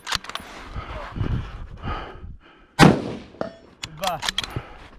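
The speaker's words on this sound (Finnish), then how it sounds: "Viimeinen hyvä tähdetty laukaus sinne." A single sharp rifle gunshot cracks loudly in the middle of a shooting competition, with metallic clinks, rustling and brief Finnish voices before and after.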